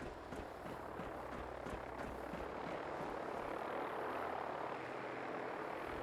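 A Vertibird aircraft in the Fallout Horizon mod flies past as a steady rotor whoosh with faint pulsing, moderately loud and continuous, with no talk.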